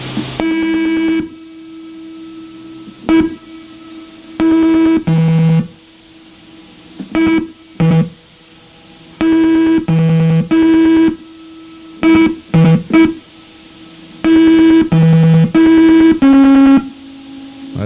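Simon electronic memory game, the toy invented by Ralph H. Baer, sounding its sequences of pure electronic tones in short bursts and longer runs of repeated beeps, switching between a few pitches, loud and clear with no voices.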